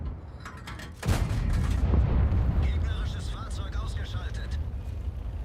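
A single loud tank gun shot in World of Tanks booms sharply, then rolls into a long low rumbling tail, with faint engine drone and a voice murmuring underneath afterward.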